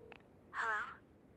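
A short electronic telephone signal from the game Devil May Cry 5: one brief warbling, buzzy ring lasting about half a second, fairly soft and alone against faint background noise.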